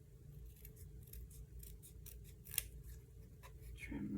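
Scissors trim a paper card for a chevron gate fold design, giving a series of soft, crisp snips at close range in an otherwise quiet room.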